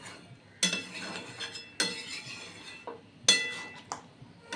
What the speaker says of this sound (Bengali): এবার একটা ঢাকনা দিয়ে ঢেকে রেখে দেব 2 মিনিট মতন